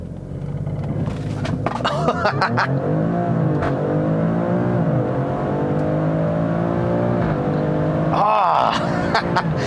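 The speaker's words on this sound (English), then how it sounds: "Come to a stop again. I want to do another acceleration run." A 2018 Alfa Romeo Stelvio QV or 2018 Mercedes-AMG GLC 63 engine revs up hard from a stop and climbs through the gears, loud and close, with a voice talking over it at times.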